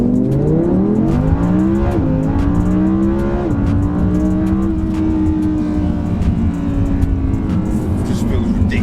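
An Audi R8 V10 Plus accelerating hard in a run with individual mode on, the engine note climbing loud and close through repeated gear changes with a steady, continuous roar.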